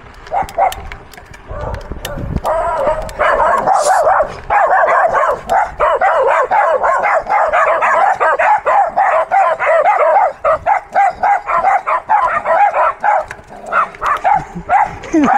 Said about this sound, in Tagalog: Hinabol pa tayo ng aso.